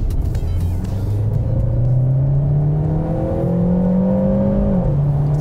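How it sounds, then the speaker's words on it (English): A 2020 Peugeot 508 GT engine pulls hard in sport mode, its loud, steadily rising whine climbing through the revs before a brief dip as it shifts and carries on. No voices are heard over it. "when you put your foot down in sport mode to do a quick little 0 to 100 dash, the engine really does get a little bit noisy"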